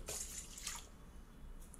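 Warm water poured into warm milk for hamburger bun dough, a soft close splashing trickle that starts loud and fades to a gentle drip over under two seconds, no talking.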